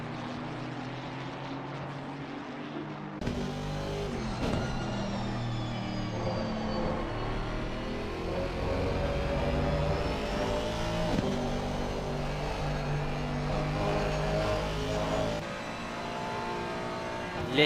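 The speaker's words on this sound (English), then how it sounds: "Listen to the sounds of these engines. This GT3 machinery, different brands of course." GT3 race cars from different brands roaring around Spa-Francorchamps in a sim racing game, multiple engines revving and shifting through gears in a continuous loud, layered drone with pitch rising and falling as cars pass.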